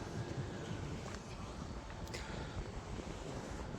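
Wind blows across a hilltop near a wind turbine with a broken blade, a quiet but constant low rumble and buffeting against the microphone with no clear other sounds.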